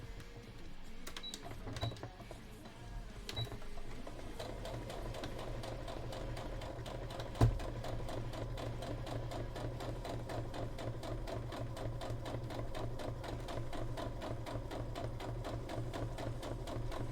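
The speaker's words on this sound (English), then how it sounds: "Do it with the sewing machine like I normally do." A sewing machine stitches cosplay fabric in a long steady whirring run with rapid rhythmic needle clatter, starting after a few light clicks and holding evenly with one sharp knock partway through.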